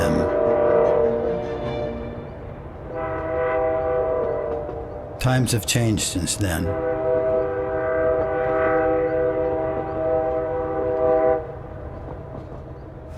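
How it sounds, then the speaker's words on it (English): A train passes on railway tracks with a rumbling roll and drawn-out horn-like tones, broken by a short clattering burst partway through. A voice speaks over it. "every time the train passes"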